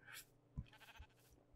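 A sheep in the Minecraft video game gives a short, faint bleat amid quiet game sounds.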